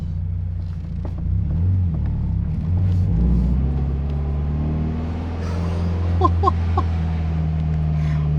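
A Toyota FRS 86 fitted with a JDM-spec aftermarket exhaust gives off a deep, steady rumble at close range, its pitch rising and falling gently as the engine is revved. A few sharp clicks come near the end.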